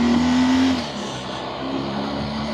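Motorcycle exhaust note on a open road, a loud close engine drone that dips briefly then steadies, with a sustained low tone and wind rush, no speech.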